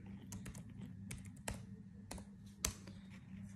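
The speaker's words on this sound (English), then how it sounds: "then I can press alt enter." Computer keyboard keys pressed while working in Excel: a handful of quiet, close clicks and taps in uneven rhythm over a faint low hum.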